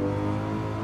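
Car engine revving steadily under throttle in Gran Turismo 7, a continuous loud, harmonic drone held throughout a brief moment with no pauses or speech.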